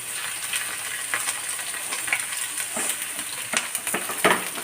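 Diced potatoes frying in oil in a covered pan on low heat give a steady, close sizzle with scattered crackles and pops, with no voices.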